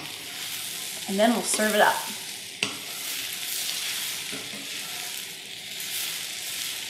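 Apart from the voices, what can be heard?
stirring sauteed vegetables sizzling in a pan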